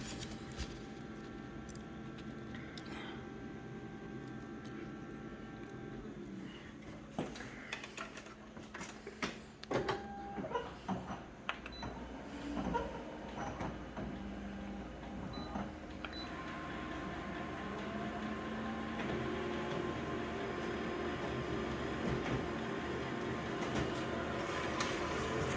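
A copier enlarging a section of a fingerprint image: steady mechanical whir with clicks and shuffling clatter mid-way, then a louder continuous hum of the machine running.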